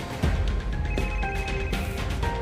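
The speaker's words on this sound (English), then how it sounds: "the phone that they found at the house at the murder scene begins to ring" A telephone rings inside a house at a murder scene, its repeated electronic ring tones cutting through a busy, noisy background.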